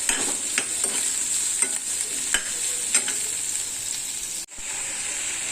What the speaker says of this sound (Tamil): நான் தக்காளி, தேங்காய் எல்லாத்தையும் வதக்கிக்கிறேன்.